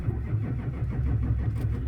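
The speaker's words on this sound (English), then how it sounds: "Let's watch engine RPM while it's cranking." Starter cranking a 2004 GM 2500HD pickup's 6.6-liter Duramax diesel that won't fire, a steady rhythmic low chugging with no catch or rev-up, close and continuous throughout.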